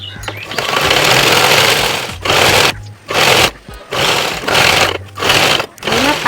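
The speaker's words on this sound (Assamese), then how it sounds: "এতিয়া মই চিলাই কৰিম" Sewing machine stitching a kurti at home runs loud and close in steady whirring bursts, stopping briefly between seams, with a faint voice underneath.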